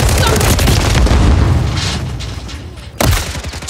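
Stun grenade going off in a Call of Duty MW3 multiplayer match, a loud booming burst followed by a fading rumble, then a second sharp bang near the end amid ongoing game noise.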